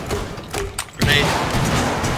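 A grenade blast in Rainbow Six Siege on the Hereford Base map: a sudden, loud, broadband burst about midway through, followed by a sustained rumbling roar after a quieter, hissing lead-in.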